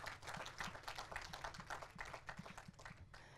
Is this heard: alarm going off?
no